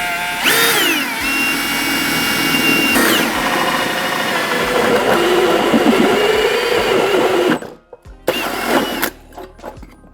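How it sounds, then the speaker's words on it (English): A power drill with a 4mm bit bores a pilot hole through a van floor, whining loudly and steadily for several seconds before cutting out in a few short final bursts. "I'm going to pilot it out with a 4mm drill bit"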